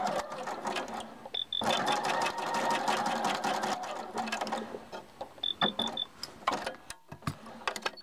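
A sewing machine stitches across a dress sleeve with elastic, running in fast bursts of rhythmic mechanical clatter with short pauses between runs, close and fairly quiet.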